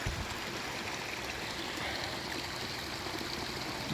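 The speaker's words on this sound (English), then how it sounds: "Nice little creek right here." A small creek in Southern Illinois, swollen after six inches of rain, rushes and gurgles in a steady, unbroken wash of water heard close by with no voices over it.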